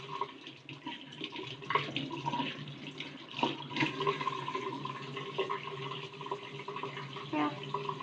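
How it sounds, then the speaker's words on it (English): Tap water runs steadily into a sink while cardamom pods are rinsed, a close, continuous splashing stream with small clinks and shifts, and a person speaks faintly at times. "This is my cardamom. And give it also a rinse."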